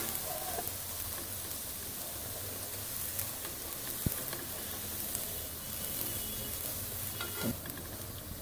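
Poori frying in hot oil just after being flipped, a steady soft sizzle and crackle with occasional faint taps, close and even throughout with no talking.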